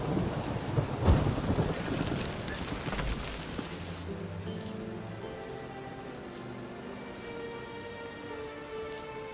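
Thunder rumbles heavily in the first few seconds of a rainstorm in The Witcher 3, then eases into steady rainfall while a soft music bed continues beneath.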